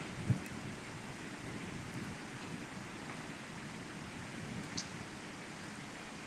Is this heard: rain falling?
yes